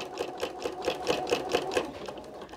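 A sewing machine with a walking foot stitches through a quilt in a steady run of evenly spaced needle strokes, close and fairly quiet, with no voices.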